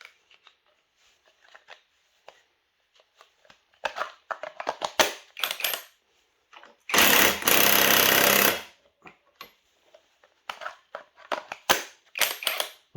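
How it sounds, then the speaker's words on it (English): A cheap impact driver rattles against a fastener while removing the drivetrain of a 2017 Honda Forza scooter, one loud sustained hammering burst of about two seconds amid scattered clanks and tool handling, with no talking. "When you don't want to spend money but you want a cheap impact driver."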